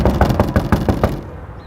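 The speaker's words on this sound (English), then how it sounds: "Knocking on the door" A quick series of about seven loud, evenly spaced knocks on a door, close by, then stopping abruptly.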